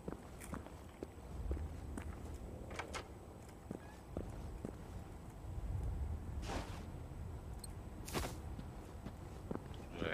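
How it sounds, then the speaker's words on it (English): Loud footsteps of characters moving in the video game Generation Zero, a steady series of close steps and scuffs over a constant low background rumble, with no talk. "your people's footsteps are so fucking loud"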